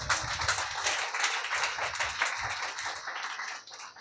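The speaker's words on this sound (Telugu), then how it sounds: "గట్టిగా చప్పట్లు కొట్టాం" A church congregation claps together in a dense, steady burst of many hands, fairly loud and close, tapering off near the end with no talking over it.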